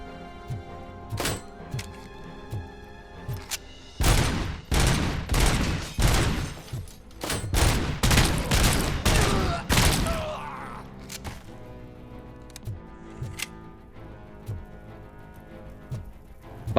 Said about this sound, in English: Where are you even shooting from?